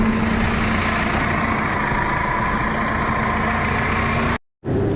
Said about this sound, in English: Look at the front of that tractor.